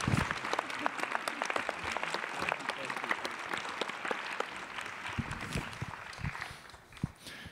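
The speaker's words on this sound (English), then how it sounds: "I would like to give a round of applause to our wonderful speakers" Audience applause after morning speakers at a round table discussion, a dense continuous clapping from a crowd that stays strong throughout and eases slightly near the end, with no voices over it.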